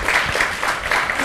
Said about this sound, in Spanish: un aplauso a los compañeros de Perfil.